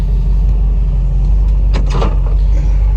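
1965 Ford Mustang with a 289 V8 driving off on a snowy street: a loud, constant low engine rumble with a couple of brief bumps or clunks midway, heard close with no talking.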